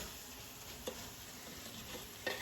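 Rice for Mexican rice frying and browning in a pan gives a steady, close sizzle with a couple of sharp scrapes from stirring, and no voices.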